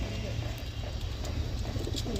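A Madras breed pigeon in a loft gives low, rolling coos up close, with people's voices mixed in.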